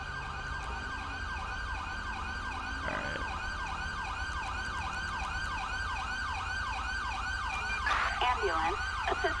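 An ambulance siren in the video game GTA V, set in Del Perro, wails loudly in a steady rising-and-falling cycle throughout, with a brief harsher burst near the end and no talk over it.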